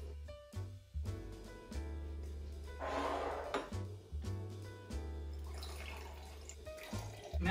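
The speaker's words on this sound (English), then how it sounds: "Okay, so now pour in the contents of bottle 9." Liquid from a cocktail bottle poured into a glass, a faint splashing trickle in short bursts over soft background music.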